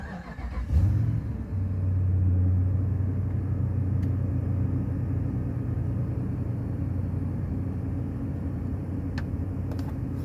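A rebuilt 5.7 Hemi engine in a 2011 Ram 2500 fires up on a cold start, catching with a brief burst then settling into a steady low rumbling idle, close and even throughout.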